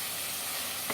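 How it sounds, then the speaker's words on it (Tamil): Ground masala paste of garlic and fennel sizzling steadily while being sautéed in a pan for a rice, dal and brinjal curry lunch, a close continuous hiss with a faint stirring scrape near the end. "இதை போட்டுட்டு நல்லா நம்ம இதை வதக்கி விட்டுடலாம்."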